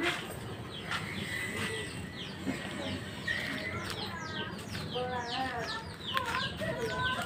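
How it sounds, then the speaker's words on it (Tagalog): Chickens clucking repeatedly in a rural Filipino yard, with busy overlapping calls near and far over steady background noise. "Oh, mga manok."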